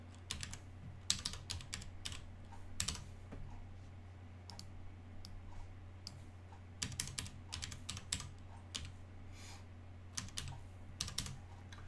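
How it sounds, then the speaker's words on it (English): Bursts of keystrokes clatter on a computer keyboard as an IP address is entered into a host field while connecting to an Oracle database server, quick clusters of taps separated by pauses over a steady low hum, with no talking. "in the host I'm going to type that IP address"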